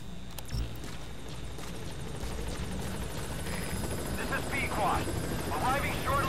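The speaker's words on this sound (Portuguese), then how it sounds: "Eu acho engraçado que o helicóptero ele sai de dentro da plataforma." A helicopter in Metal Gear Solid V, emerging from beneath an offshore platform, gives a steady rotor drone with a continuous engine hum throughout, mid-distance and fairly loud, while a voice talks over it.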